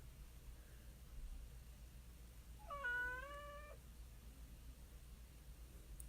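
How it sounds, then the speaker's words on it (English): A house cat gives a single drawn-out meow with a rising then level tone, near but quiet, over a faint steady background hiss in an otherwise still room. "My cat's back."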